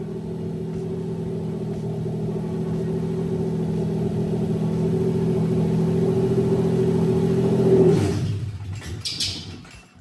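A Toyota 1JZ-GTE VVT-i engine from a JZS171 Crown revs with a steady, loud, droning hum that builds for several seconds, then cuts out abruptly and winds down, followed by a few faint clicks.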